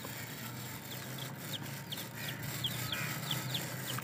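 Little chicks perched on a small swing give a run of thin, high peeping chirps at a regular pace over steady background noise, fairly faint and without talk.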